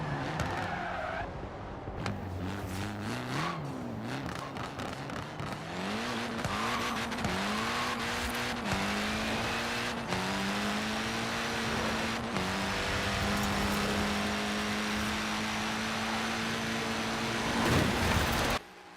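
A light, roughly 600-horsepower car in Forza Horizon 4 accelerates hard, its engine pitch climbing through repeated gear shifts with tire skidding, loud and continuous with no talk.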